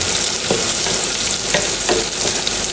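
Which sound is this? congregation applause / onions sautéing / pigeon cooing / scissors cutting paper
onions sautéing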